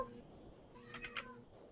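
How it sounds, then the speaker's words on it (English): A pet cat indoors gives two short meows in quick succession, fairly close and clear over a quiet room background. "The cat just came down and said hello."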